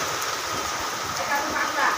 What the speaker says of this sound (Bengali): এত বৃষ্টি জোরে এঁকে বেঁকে বৃষ্টিটা হচ্ছে।